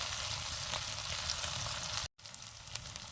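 Spice paste of ground chilli and salt frying in hot oil for a snail curry, a loud continuous close sizzle with a brief break partway through, with no talking.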